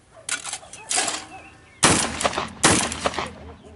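Several loud, close gunshots crack in two quick bursts, each blast trailing into a short echo, with faint voices between them.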